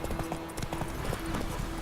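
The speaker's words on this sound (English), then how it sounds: "Horse chase across the town." Horse hooves clip-clopping at a gallop during a chase through a town in The Witcher 3, a steady quick rhythm of hoofbeats close by over game ambience, with a faint voice in the background.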